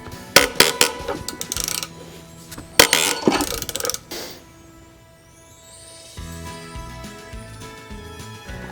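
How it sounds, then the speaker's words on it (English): Drag link crush sleeves being loosened and unthreaded on a Jeep Wrangler, loud close bursts of metallic ratcheting and clanking in two clusters, followed by quieter creaking and a low rumble. "Let's go ahead and loosen up these crush sleeves here and unthread them."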